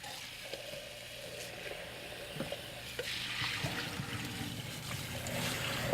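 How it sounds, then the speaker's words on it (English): Soaked radish seeds are strained in a colander, letting water trickle and dribble steadily through the mesh at close range, with a fuller, louder flow in the second half and no talking. "we'll take the seed and strain it in a colander to remove the excess water"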